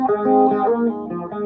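A guitar phrase played through a StewMac Lightcycle Phasor II pedal, a swirling, wobbling modulation like a univibe or Leslie speaker, notes sustaining and shifting in a warm, rotating tone.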